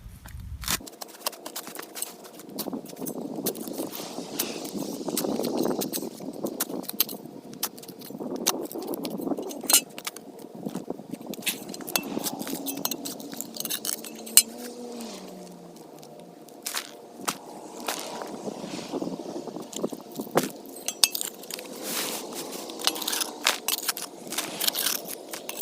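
Digging soil around a lawn sprinkler head, with repeated crunching, scraping and gritty crackling of earth throughout, close and fairly steady.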